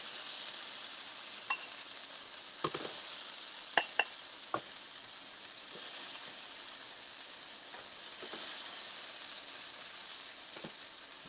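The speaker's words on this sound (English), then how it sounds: "Listen to that sizzle." Steady, quiet sizzling of salmon and peaches frying in a pan, with a few light clinks of utensils scattered through.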